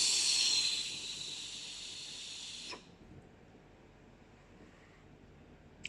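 An IJOY Katana vape kit hisses loudly with its airflow closed and power turned down, a steady bright hiss lasting under three seconds before cutting off to near silence, with one small click near the end.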